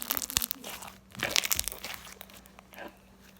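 Crunchy slime squeezed by hand at close range, dense crackling and crinkling pops in bursts, loudest in the middle, with no talking.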